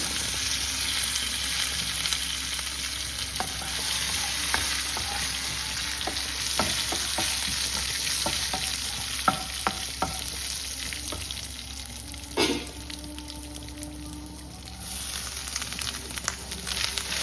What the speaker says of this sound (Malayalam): ഇനിയൊരു പാനിലേക്ക് വെളിച്ചെണ്ണ ആഡ് ചെയ്തതിന് ശേഷം നല്ലോണം ചൂടായി കഴിയുമ്പോഴത്തേക്കും നമുക്ക് 1 സ്പൂൺ കടുക് ഇട്ട് കൊടുക്കാം